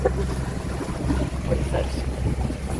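Sailboat motor sailing in about 6.5 knots of wind with full sail up and the engine on, a constant low engine drone under wind and water rush, with possible faint voice-like sounds in the background.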